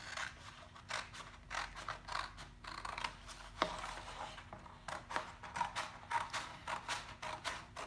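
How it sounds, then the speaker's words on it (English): Small crafting scissors or a cutter trimming around a tree cutout for a Valentine's Day tree craft: a quiet, close series of rapid snipping and clicking sounds, irregular and continuous, with no talking. "I'm going to cut around the tree"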